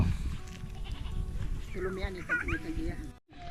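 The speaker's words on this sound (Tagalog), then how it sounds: "Tapos marami kang mga alagang kambing, no?" Goats bleat a few times on a farm, wavering calls rising over a steady background murmur and low outdoor noise.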